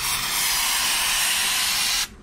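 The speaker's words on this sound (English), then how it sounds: "you just give it a spray down one side and down the other" An aerosol can sprays lubricant along a hedge trimmer blade in one steady, close, loud hiss lasting about two seconds before cutting off abruptly.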